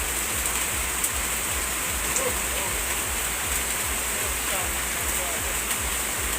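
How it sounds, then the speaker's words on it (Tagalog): Heavy rain pours steadily in a dense, unbroken hiss, with faint drips and patters on a surface, close and continuous throughout. "At ayan, malakas po yung ulan."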